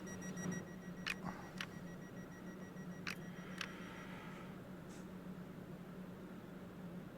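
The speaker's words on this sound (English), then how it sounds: "Doors are closing." In the Train Sim World 5 video game, a Class 350 train sounds its door-closing warning: faint, short electronic beeps in spaced pairs over a low, steady cab hum.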